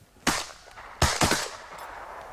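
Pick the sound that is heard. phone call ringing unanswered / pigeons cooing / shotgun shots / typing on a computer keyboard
shotgun shots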